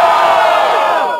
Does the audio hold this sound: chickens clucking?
no